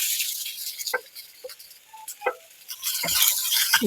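Finely chopped onion tipped into a pan of crushed garlic frying in oil for a village-style cluster bean dish, with a soft hiss, scattered clinks and scraping stirs of a spoon, close and fairly quiet, without voices.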